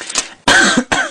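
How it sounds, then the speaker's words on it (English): An adult coughs in three harsh bursts, the first lighter and the next two louder and longer, close to the microphone with no other sounds. "You'll have to excuse the coughing. My throat suddenly got a bit clogged up."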